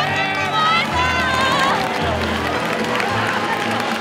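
Spectators in the stands at a boat race stadium break into applause and cheers at the Grand Prix finish, crowd noise swelling under music and an announcer's excited voice.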